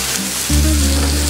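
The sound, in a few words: brandy flambéing in a steak pan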